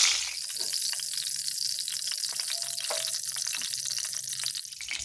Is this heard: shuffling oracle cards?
no